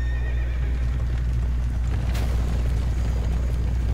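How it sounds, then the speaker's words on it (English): A horse mini boss in Dark Souls 2: Scholar of the First Sin lets out a loud, sustained neigh over a constant low rumble of game audio, with a sharp burst near the middle. "that you encounter that horse mini boss later in the game, too"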